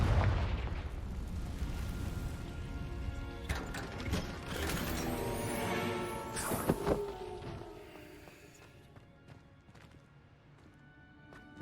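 A Confringo spell blasts in Hogwarts Legacy, a fiery burst with crackling, mechanical clatter layered over game ambience, fading into quieter rumbling toward the end.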